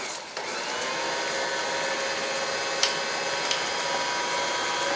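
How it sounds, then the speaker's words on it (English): An electric mixer fitted with paddles rather than whisks creams cookie dough, giving a steady, fairly loud whirring motor drone that runs unbroken, with a couple of faint clicks partway through. "I'm using paddles, you'll see, not whisks, because we actually don't want to beat very much air into this one."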